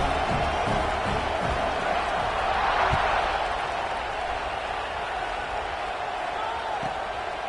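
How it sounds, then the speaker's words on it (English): A steady roar of crowd noise fills a football video game stadium after a touchdown, cheering at a constant level without individual calls standing out. "this crowd is buzzing after that last score"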